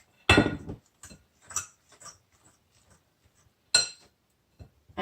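Banana cake batter for a double chocolate banana cake being mixed in a bowl, with a few separate scraping clinks of a utensil against the bowl amid near silence.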